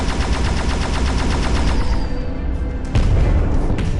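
Gunshots in the space video game End Space, a fast, loud burst of rapid-fire shots that rattles on steadily, then a sharper blast near the end.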